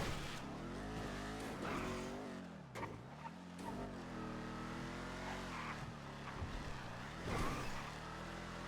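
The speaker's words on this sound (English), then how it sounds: "just listen to the engine go" A fast car's engine roars loud and steady throughout, with rising and falling revs, tire squeal and the whine of passing speeders.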